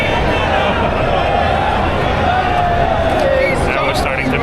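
A large crowd packs a London street at a UTK rally, a steady dense roar of many voices and babble filling the scene from start to finish, with a brief swell of cheering near the end.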